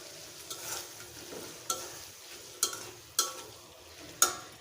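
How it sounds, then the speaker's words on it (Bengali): Katla fish pieces stir-fried in a pan with ginger garlic paste and cumin paste: a soft, steady sizzle broken by about six sharp scraping strokes of a spatula against the pan, close and alone. "মাছটা দিয়ে ভালোভাবে কষিয়ে নেব"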